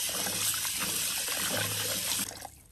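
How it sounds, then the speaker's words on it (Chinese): Steady running tap water gushing over chicken pieces as flour is rinsed off, a loud, close, continuous splashing stream that cuts off abruptly near the end, with no talking. "用这个流动的清水呢把这个面粉呢给它冲洗干净"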